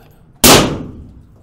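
A Swiss rifle's trigger dry-fired on an empty chamber gives a single sharp metallic snap that rings briefly and fades, close and loud, with no voices.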